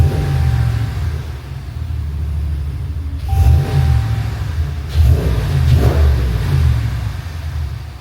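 A car engine after an idler pulley repair, rumbling at a low idle and then revving up in a few swells before settling again, close and steady with no talk.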